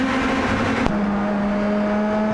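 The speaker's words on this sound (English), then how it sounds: "This train of 5 cars being led by Exton swings it through Luffield" Race cars in a PRL Indy Pro 2000 Series race swing through Luffield corner at Silverstone Circuit, a train of five cars, their steady engine drone holding a sustained pitch with a brief bump as one passes.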